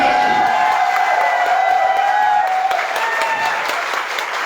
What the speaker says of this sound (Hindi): एक बार जोरदार ताली, जबरदस्त ताली,